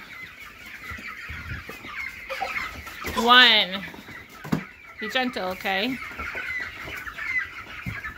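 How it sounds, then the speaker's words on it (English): Five-week-old meat chickens being moved to pasture cluck and squawk close by, with several louder agitated calls, while people talk and count over them. "start putting chickens in here"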